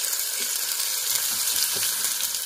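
Egg frying in a pan while being stirred and mixed, a steady bright hissing sizzle with faint scraping stir sounds, close and continuous with no talking.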